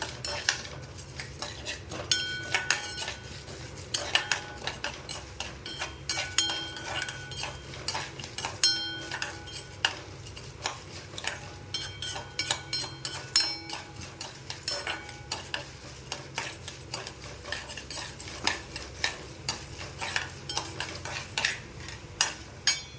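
Ingredients for a Tamil pumpkin kootu fry in a pan with a constant low sizzle while a utensil keeps stirring, scraping and clinking against the metal. No one speaks.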